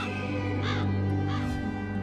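Crows caw in a couple of hoarse, distinct calls over a steady droning musical background in an animated biblical tale set in Egypt.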